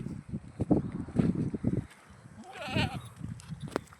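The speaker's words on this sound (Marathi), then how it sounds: "चालल्या शेळ्या माग" A herd of goats on the move: shuffling steps and rustling lead into one loud, wavering bleat close by, followed by more scuffling.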